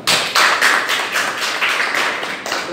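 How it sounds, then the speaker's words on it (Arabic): A group of children clapping together, a steady, rapid run of bright hand claps lasting a few seconds, close and loud, with no talking over it. "عظيم صفقوا لها."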